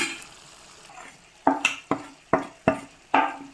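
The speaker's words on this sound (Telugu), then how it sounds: "కారం తగినంత వేయండి ఇప్పుడు ఒకసారి తిప్పుకుందాం" A spoon stirring Andhra-style chicken curry with chili powder in a pan, six sharp scraping strokes at a quick, uneven rhythm over a soft sizzle, close and without talk.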